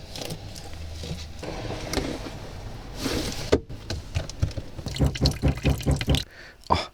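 Dishes, a miso soup bowl and tongs, are washed under cold running water at the sink of a ten-year-old used two-wheel-drive camper van, with close splashing, dripping and clattering in quick bursts.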